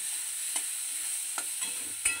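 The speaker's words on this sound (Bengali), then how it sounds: "একটু নাড়াচাড়া করে তাতে আগে থেকে কেটে রাখা বেগুনটা দিয়ে দেব।" Onion and eggplant frying with turmeric in a pan are stirred, giving a steady close sizzle with a few sharp scraping clicks of the utensil against the pan.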